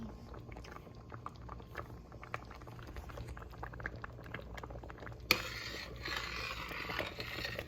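Thickening peach jam boils in a pot on a stove. It gives faint, steady bubbling with scattered small pops, then a louder, denser hiss takes over near the end.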